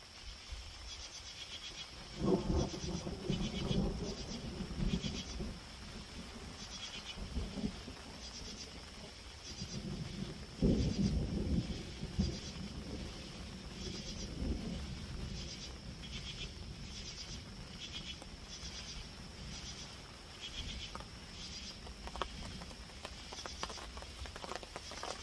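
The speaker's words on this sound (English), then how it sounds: "I'm starting to hear rain on the tarp, so it's definitely starting to rain." Rain patters on a tarp over a car campsite as a thunderstorm arrives, a continuous light tapping with a few louder, denser bursts, close and without speech.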